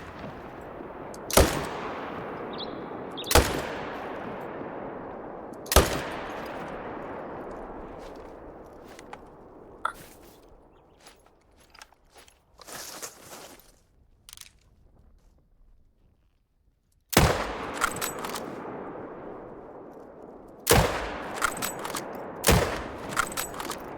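Rifle gunshots ring out while hunting banteng in the game the Hunter: Call of the Wild, about seven sharp, loud shots at irregular intervals, each trailing off in a long echo, with faint rustling between them.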